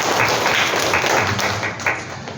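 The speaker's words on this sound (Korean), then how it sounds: "거룩하신 하나님 앞에 박수의 영광을 올려주십시다." A church congregation claps together, a fairly close, dense burst of applause with uneven taps that thins out toward the end.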